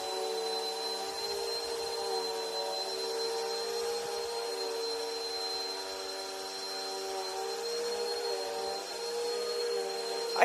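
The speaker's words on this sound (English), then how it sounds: "And then you vacuum." A vacuum cleaner fitted with a makeshift hose and filter runs at a steady, close whine with a constant tonal hum, continuous and alone for the whole stretch.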